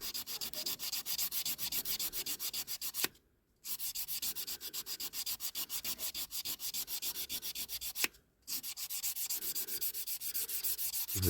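Sandpaper scrubs scratches out of the body of a 1970s Tonka Ford Mustang toy in fast, rhythmic back-and-forth strokes, close and steady, broken by two short pauses.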